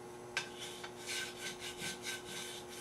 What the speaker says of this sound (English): This is a little diamond file.